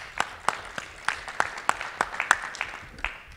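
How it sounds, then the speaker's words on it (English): Audience at a community discussion clapping, a short burst of scattered individual claps rather than a dense roar, fairly close and alone without talk. "I'd like to everybody give each other a round of applause."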